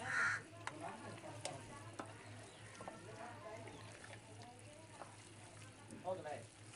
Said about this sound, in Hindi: अब इसमें डालेंगे सरसों तेल और अच्छे से इसे मिक्स करेंगे